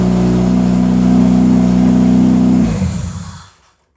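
A car engine with a K-series engine swap roars loudly at steady high revs, then drops off and winds down into silence.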